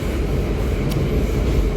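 A Joglosemarkerto executive-class passenger train running, heard as a loud, steady, continuous rumble and rolling roar without letup.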